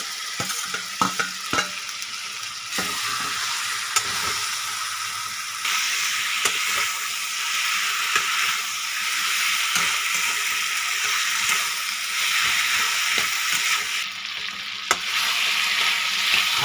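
Potatoes and green chilies fry on a high flame for a chana dal, a steady loud sizzle with intermittent stirring clatter throughout, no voices.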